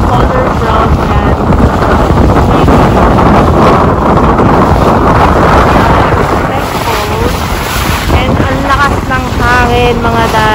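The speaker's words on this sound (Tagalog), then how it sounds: "super lakas ang hangin" Strong wind near Taal Volcano in Batangas roars steadily and buffets the microphone, a dense continuous rush with no pauses, loud and close throughout.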